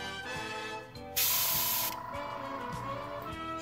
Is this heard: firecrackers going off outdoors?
no